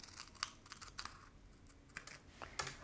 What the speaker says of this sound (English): I have a pair of metal shears right here, and you can cut it